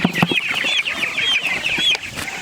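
Meat chickens being carried out by hand cluck and squawk up close, a busy overlapping chorus of sharp, high calls.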